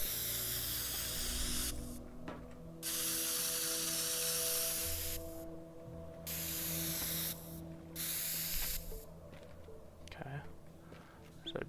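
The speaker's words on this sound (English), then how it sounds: "So I'm gonna just spray can all of this just so we know." Spray can painting in the video game Teardown: long hissing bursts of spray, several in a row with short gaps, over a steady low mechanical hum and some clicks.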